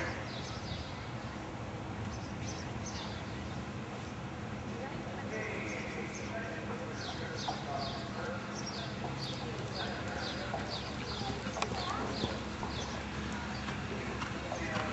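Small ponies cantering under saddle in a show ring, with faint rhythmic hoof clip-clops under steady crowd and arena noise and a voice calling over the loudspeaker.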